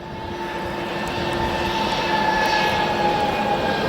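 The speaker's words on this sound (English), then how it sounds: "it appears that Spirit Airlines is finally getting a move on its departure" A Spirit Airlines jet airliner departs O'Hare International Airport at sunset, its engine roar building steadily from a moderate distance into a broad, sustained rumble with a faint whine riding on top.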